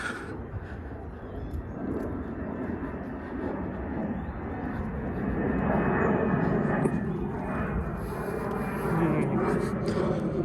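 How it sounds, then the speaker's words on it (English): A fixed-wing airplane on approach passes over Adelaide suburbs with a broad engine rumble that swells louder midway, while someone talks over it. "There's a flight going in over there."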